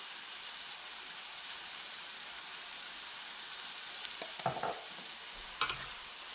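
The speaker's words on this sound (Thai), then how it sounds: "ก็ผัดเลยค่ะ" Chicken samosa filling seasoned with curry powder and turmeric fries in a hot pan, a constant soft sizzle near the mic, with a few scraping stirs toward the end.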